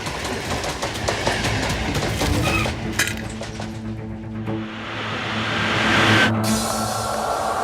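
A train rolls past nearby, loud rumbling with rhythmic clickety-clack of wheels over rail joints and metallic clinks, the sound swelling and shifting as the cars go by.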